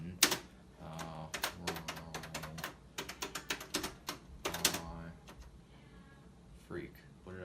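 Keys clack on an old Brother word processor keyboard in quick uneven bursts with short pauses, loud and close, followed by a quieter stretch of faint shuffling.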